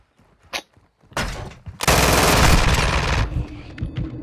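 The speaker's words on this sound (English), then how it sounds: "That's 72 in the drum. Look like a Tommy gun." A Tommy gun with a 72-round drum fires in Call of Duty: a couple of brief shots, then a loud sustained burst of rapid automatic fire lasting about two seconds before it cuts off, with no talking.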